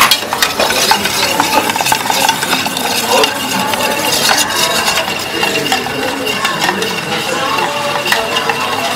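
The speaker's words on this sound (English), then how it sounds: "I stir." Bar spoon stirring a Manhattan cocktail over ice in a mixing glass, a steady clinking, swirling rattle running continuously for several seconds at close range.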